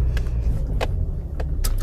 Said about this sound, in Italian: adesso parcheggio un attimo la macchina